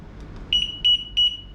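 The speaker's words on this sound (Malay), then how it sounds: "bunyi 3 beep adalah mode 3" A door and window alarm set to its third mode gives three short, bright electronic beeps in an even rhythm, loud and close against a quiet room.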